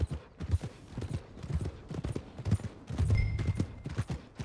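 Horse hooves clip-clop at a steady walking rhythm in the Red Dead Redemption 2 video game, near and continuous with faint creaks and other game sounds around them.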